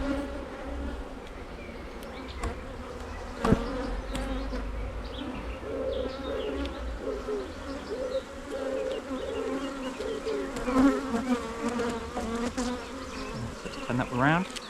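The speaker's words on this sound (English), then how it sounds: "That's got quite a lot of bees over in this one." Honeybees swarming around an opened hive frame during a hive inspection, a dense continuous buzz close by that stays steady throughout, with a few handling knocks.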